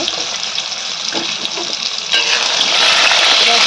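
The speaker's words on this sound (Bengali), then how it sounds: "তেল আমার গরম হয়ে গেছে পটলগুলো দিয়ে দেবো সব একই সাথে দিয়ে আমি ভেজে নেব" Pointed gourds fry in hot oil, a steady close sizzle that turns suddenly louder and denser about halfway through and stays intense to the end.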